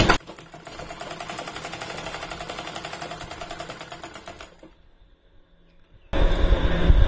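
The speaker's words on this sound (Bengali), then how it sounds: "তো আরো একটু টাইট করে দেওয়ার পর আমি এই দিকে সেলাই করে দেখি।" A sewing machine stitches a seam after its tension is tightened to fix loose bottom stitching, running in a fast, even mechanical rattle for several seconds before stopping, followed by a brief louder clunk of handling noise.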